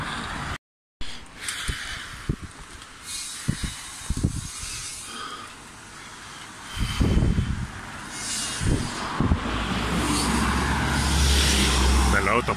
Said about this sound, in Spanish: Los autos pasan como condenados.